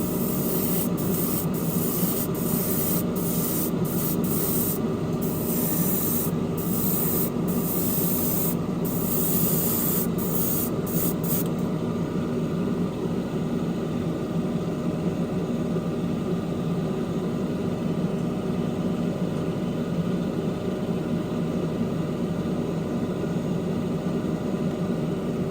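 Steady hiss of an aerosol spray can coating a seat from an AMT Corvette ZR1 model kit, with short bursts at first giving way to one long continuous spray.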